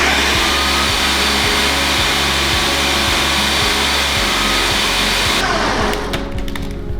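Loud, close whirring of a food processor pulsing a lemon bar mixture with lemon zest, the motor chopping in a steady rhythmic churn before winding down near the end, with no talking.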